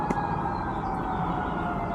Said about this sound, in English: Ah, the siren.